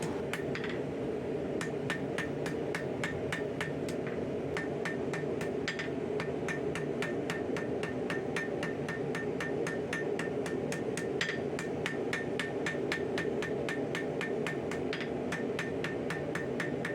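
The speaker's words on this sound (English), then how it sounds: "These are more of like planishing strikes to clean everything up and get it more symmetrical" A light hammer taps forged steel spoon stock on an anvil with steady, evenly spaced planishing strikes, crisp metallic pings repeating roughly twice a second over a low workshop hum.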